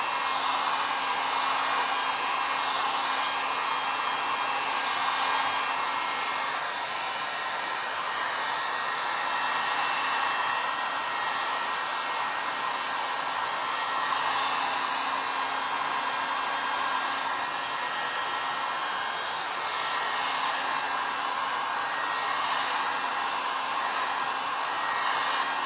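A hair dryer blows steadily on black paint with a cinnamon texture, a continuous close whirring rush that holds at an even level throughout with no talking.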